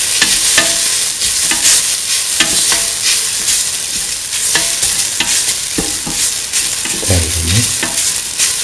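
Potato, green pea and coconut rice is stirred in a hot pan, with continuous scraping and tossing strokes over a loud, steady sizzle.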